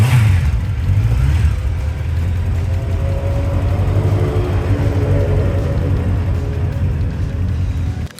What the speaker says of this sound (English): Exhaust sound of Honda CB1000 Super 4 Big One.